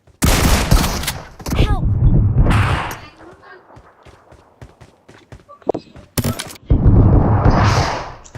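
Gunfire from a first-person shooter video game comes in loud bursts of rapid shots separated by quieter stretches with scattered lighter impacts.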